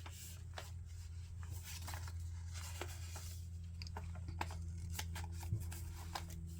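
Scissors snip through a paper photo in small fussy cuts for a ballet-themed journal card, giving a close, steady run of crisp clicks and slicing scrapes over low background hum.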